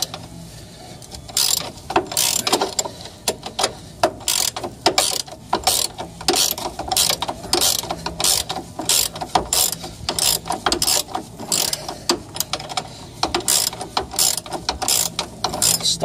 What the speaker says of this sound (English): Put your ratchet wrench on this side.